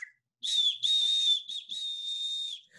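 A single high whistle note for a kindergarten reach-up movement exercise sounds in three close, steady blasts with brief breaks, loud and clear against silence.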